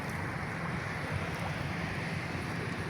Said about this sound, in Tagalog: yung dagat ang malakas na naman yung alon